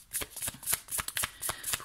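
Tarot cards are shuffled briskly up close, giving a quick series of crisp riffling bursts in a steady rhythm over about two seconds.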